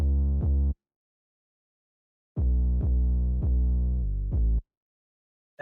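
Deep trap beat bass line with no effects applied, playing dry in two sustained phrases, a short note followed by a pause, then a longer run of pitched notes that stops abruptly.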